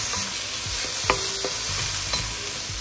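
Sweet and sour chicken with pineapple and vegetables stir-fried in a wok, a steady close sizzle with scraping stirs and a couple of sharp utensil clicks against the metal.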